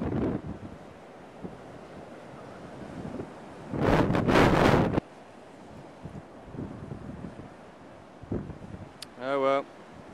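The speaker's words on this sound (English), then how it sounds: "Seen the wind blowing all the foam over?" Strong coastal wind buffets the microphone in heavy gusts over the rumble of surf, with two loud blasts of wind noise and a brief bit of talk near the end.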